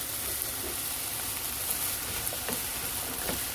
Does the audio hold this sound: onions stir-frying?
yes